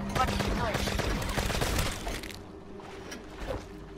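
A rapid burst of gunfire from Call of Duty: Black Ops III zombies mode rattles loudly for about two seconds, then cuts off, leaving a quieter game background with a brief voice.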